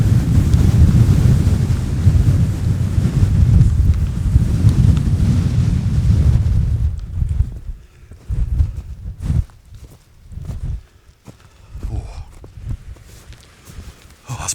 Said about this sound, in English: we're walking straight into the wind because it's a southwesterly